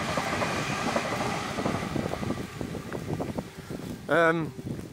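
A train rumbles and clatters past at Springkerse, Stirling, Scotland, under a voice, ending with a loud horn-like tonal blast.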